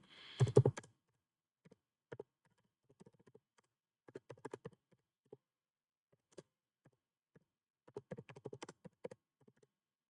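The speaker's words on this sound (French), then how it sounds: "On peut même changer du texte et taper une phrase" Sparse clicks of typing on a computer keyboard, quiet and close, coming in short irregular bursts separated by pauses after an initial louder clatter.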